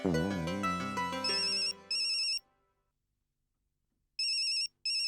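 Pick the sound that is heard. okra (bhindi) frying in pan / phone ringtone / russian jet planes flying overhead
phone ringtone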